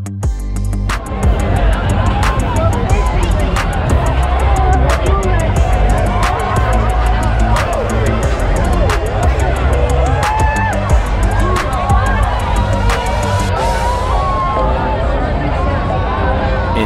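A dense crowd partying at the Boca Bash sandbar, loud overlapping voices, shouts and cheers forming a constant close hubbub, with sharp clicks and knocks scattered through it and people talking nearby.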